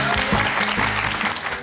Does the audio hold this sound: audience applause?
yes